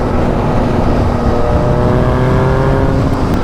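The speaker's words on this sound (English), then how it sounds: "that is the first time I've ridden with a Quickshifter, and it rips" A Yamaha FZ09 motorcycle with a quickshifter accelerates hard, its loud engine tone climbing through the gears under heavy, constant wind roar.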